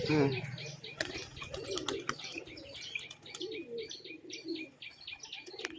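Racing pigeons of the baji breed, including a yellow-eyed hen, chirp and coo inside a loft, with occasional wing flaps and shuffling close by while someone talks over them.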